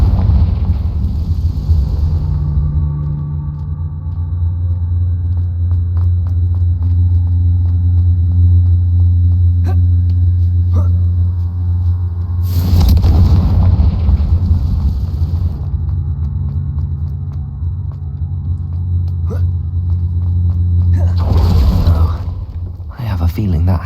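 A Confringo fire spell from Hogwarts Legacy bursts twice with loud, broad blasts over a constant low rumbling game ambience, the second blast coming near the end of the stretch.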